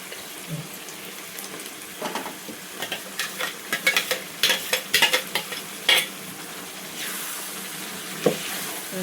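A spoon stirs potato and capsicum masala curry in a pan with a little water, giving a series of close scraping and clacking strokes over a soft sizzle.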